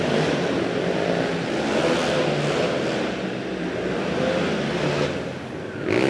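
Two-stroke race motorcycles, 400 class, battling on a points-race track, a loud continuous high-revving buzz that swells and fades as the bikes pass near.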